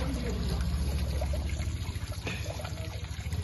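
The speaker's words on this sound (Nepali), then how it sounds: "टक्क धारामै पानी यहीँ आउने है, मजाले सफा हुँदो रहेछ" Water pouring steadily from a tap at a fresh meat shop, a continuous close splashing stream with a low rumble beneath it, heard without talk.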